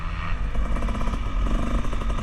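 A 300 dirt bike rides over logs 8 to 14 inches thick on a practice track, its engine loud and continuous with rough clattering over the obstacles.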